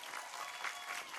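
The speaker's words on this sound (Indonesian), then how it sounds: "Terima kasih tepuk tangan untuk panitia" A short, soft burst of audience clapping at a Ramadan religious lecture: a dense, even patter of many hands, heard faintly from a distance.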